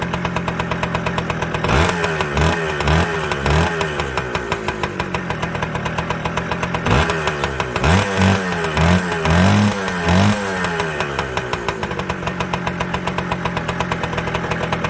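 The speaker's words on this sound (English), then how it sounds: "Want to go throttle up" A Kawasaki KE100 motorcycle, first started since 2020 and smoking after sitting, revs loudly up close in repeated throttle blips over a rough, knocking idle.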